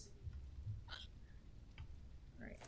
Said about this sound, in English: Oh, you've got hiccups.